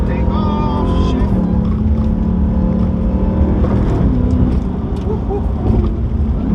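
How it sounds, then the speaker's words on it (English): A Dodge Hellcat pulls hard in third gear on a curvy road, its engine note rising loud and close before a shift, then climbing again with a dense, rough roar throughout. "here's a little curvy here, third gear, take off, shift."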